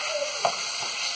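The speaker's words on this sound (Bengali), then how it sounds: "এখন আমি একটু নেড়ে দিব।" Chicken leg pieces fry in oil with cinnamon, cardamom, cloves, bay leaf, onion and salt, giving a soft, steady sizzle, with one brief stir near the middle.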